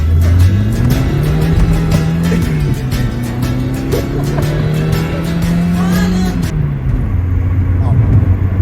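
A car pulls hard in first gear, its engine note rising loud and close through the run before dropping off near the end, while people inside talk over it.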